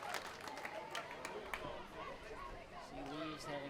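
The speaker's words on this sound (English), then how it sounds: "Stacy Stevens gets a nice round of applause from the crowd" A crowd at a college softball game applauds a departing pitcher with steady scattered clapping and murmur, heard faintly and at a distance under a broadcast commentator's voice.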